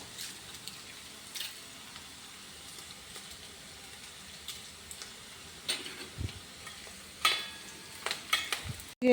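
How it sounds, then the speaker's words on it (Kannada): Kaltappa batter poured into a hot pan, frying with a soft continuous sizzle and occasional scraping and stirring clatter close by, no talking. "ಒಂದು ಲೈಟ್ ಕೆಂಪಾಗುವಾಗ ನಾವು ಹಿಟ್ಟನ್ನು ಒಯ್ಯಬೇಕು."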